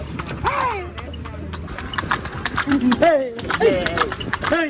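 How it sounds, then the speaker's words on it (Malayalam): Rhythmic clip-clop of horse hooves close by during a horse ride around a palace in Bangalore, steady and repeated, while people talk and chatter over the hoofbeats. "ഞങ്ങൾ റൈഡിന് കയറുകയാണ് ഗൈസ് ഞങ്ങൾ കുതിര അങ്ങോട്ട് പോവാണ്"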